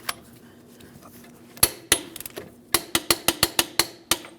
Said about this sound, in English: Now we can torque that axle nut to